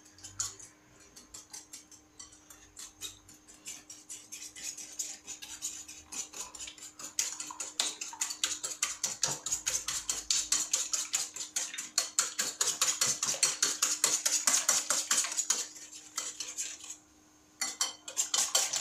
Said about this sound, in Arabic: غادي نطرب مزيان هاد الخليط ديالي مزيان غير بيدي بحال هكا